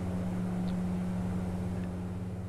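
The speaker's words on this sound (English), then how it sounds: "Engine's pretty loud." Saab 340A turboprop engine in the X-Plane 11 flight simulator, a steady low droning hum with a strong tonal pitch that stays constant throughout.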